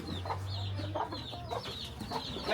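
A chicken clucks in short bursts at a moderate distance over a low background hum, with no voices.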